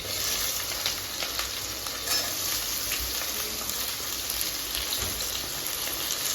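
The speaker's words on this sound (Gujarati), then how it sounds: "ડુંગળીને થોડી થવા દઈશું લાલ થાય ગુલાબી કલર જેવી ત્યાં સુધી શેકાવા દઈશું" Onions frying in a pan with whole cloves, cinnamon, black pepper and green chillies for Gujarati vagharela khichdi give a steady close crackling sizzle with faint stirring scrapes, without any talk.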